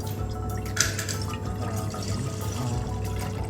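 Half a litre of milk pours into a pan for pal payasam in a home kitchen, a steady liquid trickle with a few drips, close by and fairly quiet, no talking.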